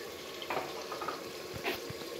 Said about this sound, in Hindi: अब मैं इसमें थोड़ा सा पानी ऐड कर दूंगी